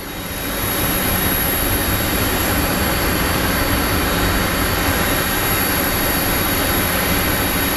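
A small CRJ regional jet on approach to Phoenix Sky Harbor International Airport produces a steady, broad engine roar that rises in the first second and then holds constant and loud.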